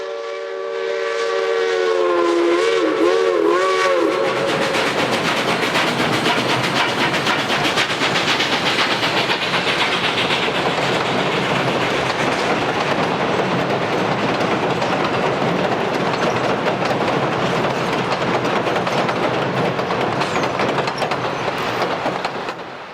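A steam-hauled special train on the Silverton narrow-gauge line in 1972, running south along the Animas River, sounds its whistle in a sustained chord early on, then a steady loud rumble and clatter of the moving train continues throughout.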